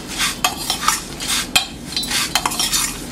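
Spoon stirring warm ghee with cardamom powder in a metal pan, a series of scraping, clinking strokes in an uneven rhythm, close and fairly loud with no talk.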